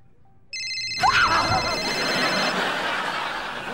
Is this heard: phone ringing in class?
yes